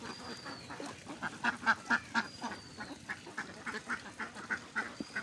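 A group of ducks quack in quick bursts while being fed at a duck farm, fairly close, the calls coming in uneven clusters over a low background murmur.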